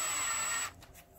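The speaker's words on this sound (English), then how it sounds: "Now on my drill, I find that three on the clutch works really well for" A cordless drill set low on the clutch whirs steadily as it drives a screw into plastic threads during a projector teardown, a close, even motor whine that cuts off abruptly after about half a second, leaving faint handling noise.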